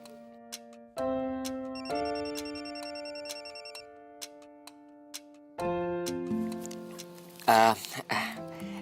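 A phone ringtone for an incoming call from Germany plays a steady electronic melody of sustained tones and chime-like notes, close and clear, with a brief voice near the end.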